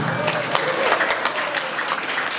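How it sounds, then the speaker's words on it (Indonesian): Applause from an audience at a school Maulid Nabi and Hari Santri celebration, a dense steady patter of many hands clapping close by, with some voices faintly underneath. "tepuk tangan"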